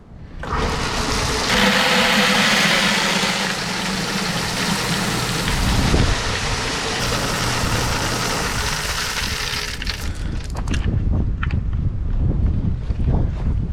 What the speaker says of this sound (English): So now we can just fill the pails with this auger.